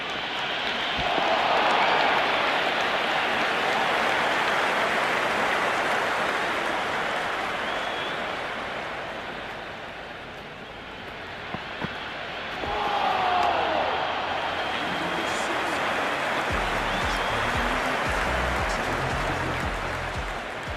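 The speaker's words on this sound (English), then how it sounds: "It's almost palpable, the excitement emanating from this crowd at the moment." A packed cricket stadium crowd at an IPL match between RCB and Gujarat roars in a sustained, broad wall of cheering for a six, dipping briefly before surging again, with commentary voices underneath.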